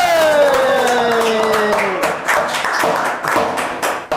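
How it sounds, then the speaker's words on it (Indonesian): A small group claps in quick bursts at the start of a casual podcast-style talk show, ringing tones fading out beneath the taps, with sparse hand claps continuing to the end. "Tepuk tangan dulu."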